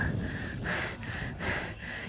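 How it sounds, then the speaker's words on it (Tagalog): Heavy, rhythmic panting from a person hiking uphill in the Vietnamese highlands near Sapa, about three close breath cycles heard loudly, with a steady in-and-out pattern against faint outdoor background noise. "Rinig yung hingal ko."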